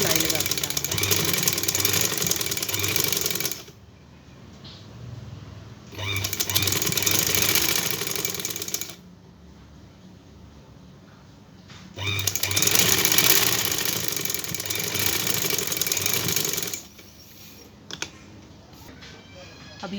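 Sewing machine stitching lace onto a trouser, running in steady loud whirring bursts of several seconds each, separated by short pauses.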